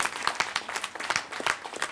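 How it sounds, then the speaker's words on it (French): Audience at a round-table forum applauding, a steady patter of many hands clapping close and dense throughout, with no talk over it. "je crois qu'on peut applaudir"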